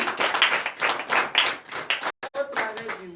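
A congregation at a morning prayer service in Comè, Benin claps in quick, uneven bursts, fairly close and loud, with voices calling out among the clapping before it breaks off briefly.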